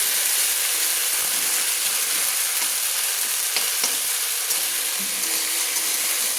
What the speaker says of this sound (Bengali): তেলের সঙ্গে আদা কাঁচা লঙ্কাটা আমি কষিয়ে নিয়েছি